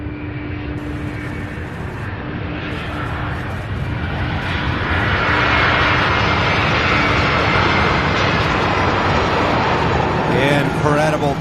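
A 25-year-old cargo jet, first flown in December 1997, passes at night at UPS Worldport, Louisville SDF. Its broad engine roar swells steadily and stays loud to the end while people talk over it.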